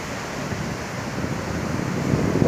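Rough, choppy sea surf washing steadily onto a sandy beach, a continuous broadband roar of breaking waves with some wind noise, gradually swelling louder toward the end, with no talking.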